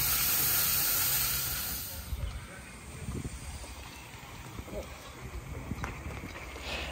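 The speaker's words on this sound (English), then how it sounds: "A little bit of steam through the cylinders first to warm them up to try and get rid of the condensate." Steam hisses through the cylinders of a 7 1/4 inch gauge model of the Duke of Gloucester locomotive. A loud, broad hiss comes first, then settles into a softer, uneven sputter with scattered puffs.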